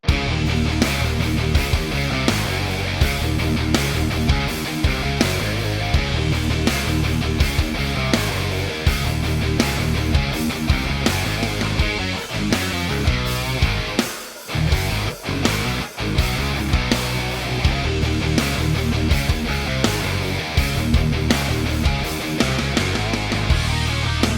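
A driving rock riff on distorted electric guitar plays loud and continuous with drums and bass, dropping out briefly midway before pounding back in.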